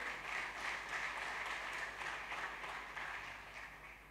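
A church congregation applauding the Lord, a steady wash of many hands clapping at a distance, soft and continuous, tapering slightly toward the end.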